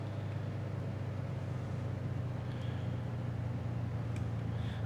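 Light aircraft engine over an airfield throttled back toward idle, a steady low drone holding constant and loud throughout with no voices.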